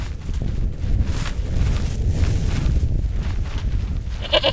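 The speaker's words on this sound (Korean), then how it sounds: "아이벡스라고 불리는 야생염소다" Wild ibex goats on high rocky ground in the Gobi Desert bleating amid strong, gusty wind buffeting the microphone, the calls rough and partly buried in the roar.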